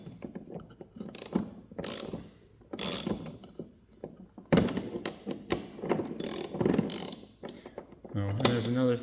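Bolt on a Ryobi 40V battery mower blade being turned loose with a ratcheting tool, giving irregular clicking ratchet bursts and metallic clatter at close range, with pauses between strokes.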